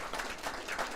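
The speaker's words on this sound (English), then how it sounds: "Round of applause for Heidi." Applause from a weightlifting competition audience after a woman's lift attempt at the Auckland Cup, a steady wash of clapping at moderate distance, fairly quiet and continuous without talk.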